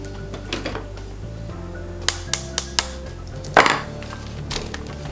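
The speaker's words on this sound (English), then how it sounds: "I have to take like some kind of small hammer to it" Sharp metallic taps from a small hammer driving out the middle pin of a G36 airsoft gun, four quick distinct strikes close by, followed by a louder knock and clatter against steady background hum.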